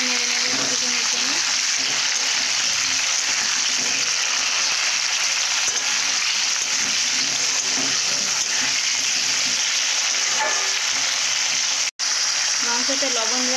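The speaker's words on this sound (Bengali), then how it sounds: "এরপর আলুগুলো দেব। এইভাবে নেড়ে নেড়ে কিছুক্ষণের জন্য।" Cut potatoes and meat frying together in a pan while being stirred, a dense, even sizzle that holds steady throughout with a brief dropout near the end.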